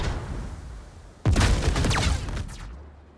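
Heavy ship guns fire in the video game World of Warships, a sudden loud salvo with booming low rumble and shell whooshes that slowly fades out.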